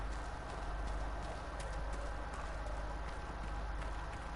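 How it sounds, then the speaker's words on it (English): Horse hooves clip-clop in a steady trotting rhythm in the video game Dragon Age: Inquisition on PS4, moderately faint over a constant background hum. "There's a horse over there, I can hear it."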